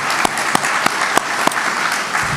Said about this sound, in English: So please recognize them and give them a round of applause.